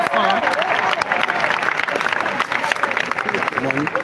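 A church congregation claps and cheers at a worship event in the DRC, giving a dense, continuous burst of applause with raised voices mixed in throughout.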